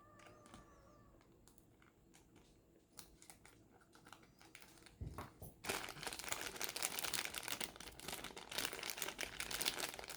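Plastic figure packaging for a Figma Edelgard von Hresvelg is snipped and crinkled with scissors, with soft clicks and rustles first, then a sharp cut and a loud, dense crinkling of plastic that continues close up.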